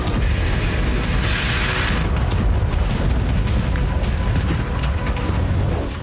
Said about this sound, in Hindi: यूक्रेन के हमलों के बाद रूस के इस गैस स्टेशन में धमाके होने लगे।